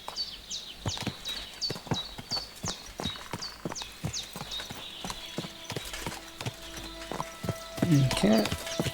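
A horse walks in Kingdom Come Deliverance 2, its hooves clip-clopping in a steady, close rhythm of sharp strikes. The hoofbeats slow toward the end as other game sounds rise.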